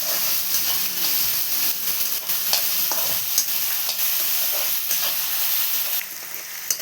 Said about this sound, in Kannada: ನಾವು ಹೆಚ್ಚಿಟ್ಕೊಂಡಿರುವಂಥ ಈರುಳ್ಳಿ ಹಾಕಿ ಚೆನ್ನಾಗಿ ಮಿಕ್ಸ್ ಮಾಡ್ಕೋಬೇಕು.